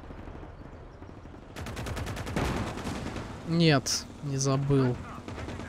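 Gunfire in the World War II strategy game Call to Arms - Gates of Hell: Ostfront, with bursts of rapid shots rising midway over the game's background rumble while someone talks over it.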